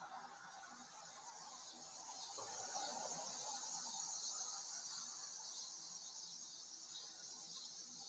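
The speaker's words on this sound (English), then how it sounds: "Cicadas are beautiful tonight, aren't they?" Cicadas chirping at night, a steady high-pitched droning buzz that holds continuously, faint and distant, with no voices.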